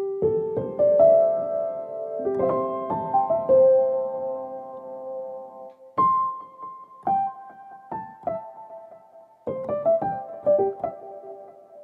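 A soft felt piano run through a stereo delay set to dotted-eighth and eighth repeats with light feedback and reverb: a gentle melodic phrase of plucked notes echoing in trailing repeats, faint and alone.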